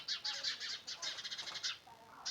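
A small sparrow-like bird gives rapid, bright chirps in quick bursts, close and clear against a quiet outdoor village background, with a short pause before a final chirp.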